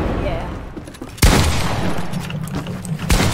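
Rapid bursts of automatic gunfire in a video game, loud and close, with sharp impacts near the middle and end, heard beneath excited talking.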